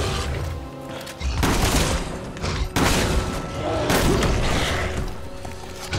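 Loud, dense shotgun fire in Resident Evil 6, with heavy booming blasts in several bursts, surrounded by clashing impacts and chaotic action noise.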